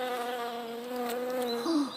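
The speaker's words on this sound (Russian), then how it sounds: "Слышите, что-то такое жужжит. Я не пойму даже. Это пчелы ваши?" A bee buzzes steadily close by with a strong harmonic drone, the pitch sliding and rising near the end as it moves about; no one speaks over it.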